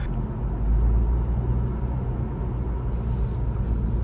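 Steady low road rumble and tire noise inside a 2024 Honda Civic Hatchback EX-L while driving, an even continuous drone with no talking.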